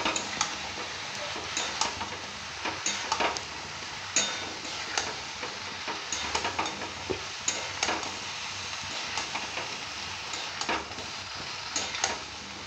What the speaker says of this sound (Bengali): এবার এটা ভালো করে কষিয়ে নেব